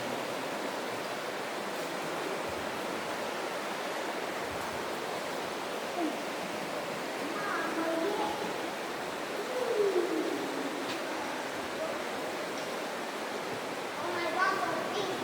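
Water rushes steadily through the Băniței gorge in the mountains, a constant broadband roar with occasional faint voices and chirps over it.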